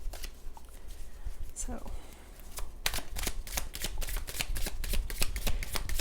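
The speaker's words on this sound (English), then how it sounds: "I'm shuffling them backwards" Tarot cards being shuffled, a fast run of crisp riffling snaps in the second half, close and loud, after a brief spoken word over quieter handling.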